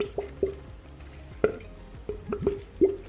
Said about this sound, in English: when you pour it, it makes like a guggle noise